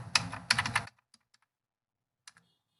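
An OTP is typed on a computer keyboard: two quick bursts of close keystrokes, followed by a few isolated soft clicks in near silence.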